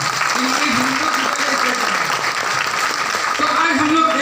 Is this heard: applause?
yes